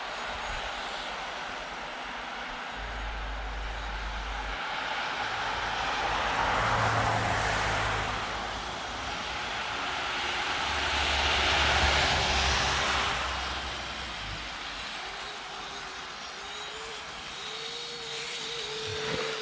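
A brushless Blizzard 2.0 RC airplane buzzes overhead, its electric motor drone swelling twice as it passes closer, then fading and rising in pitch as it banks away, heard alone outdoors.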